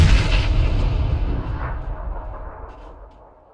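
Heavy gunfire rumbles through a PUBG squad battle, a loud, dense burst of booming shots with deep low-end weight that rolls on and slowly fades away over a few seconds, with no talking over it.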